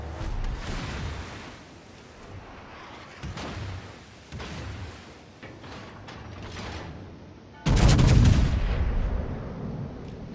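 Heavy battleship guns firing shells in a naval video game, the USS Massachusetts, heard as a series of muffled booming reports with mechanical creaks between them, ending in a loud, sustained close blast.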